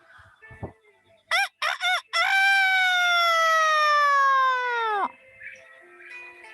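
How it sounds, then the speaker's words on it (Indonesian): A rooster crows nearby: three short clipped notes and then one long, loud, drawn-out call that falls away at the end. "kokok ayam berbunyi."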